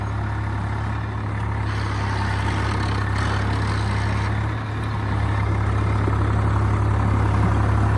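A 3630 model tractor, about nine years old, idles with a deep, steady engine rumble and a continuous exhaust drone from its silencer, loud and close with a slight dip in the middle.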